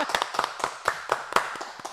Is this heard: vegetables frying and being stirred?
no